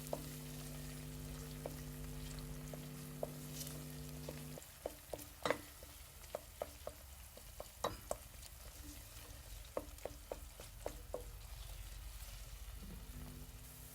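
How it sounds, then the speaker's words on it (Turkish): Tomato paste sizzles gently while it toasts in a pan for a chickpea stew, with a steady low fry interrupted by repeated clicks and scrapes of a spoon stirring, all close by and with no voices. "Artık salçamın da kavrulmasını bekliyorum. Ara ara bu şekilde karıştıralım."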